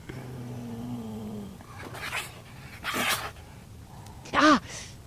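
A growling creature hidden inside a hole in the horror adventure game Scratches gives low, rumbling growls that end in a sharp, loud snarling screech, with a few quieter hisses in between.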